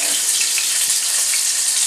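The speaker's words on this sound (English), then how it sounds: "the fish has been frying there for about 5 minutes" Fish fries in hot oil for a Szechuan spicy fish dish, giving a steady, loud, hissing sizzle throughout with no gaps or voices.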